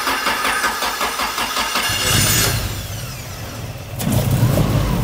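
A Toyota AE86 engine cranks with a rapid starter chatter, catches and fires into a rough idle that swells into a rev, loud and close with no talking.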